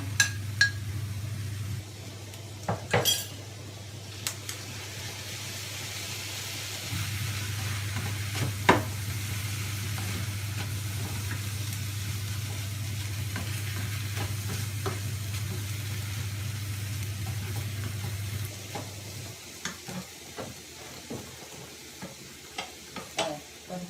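Bamboo shoots stir-fry in oil with a steady, close sizzle under a low stove hum, with scattered clinks and scrapes of a utensil against the pan.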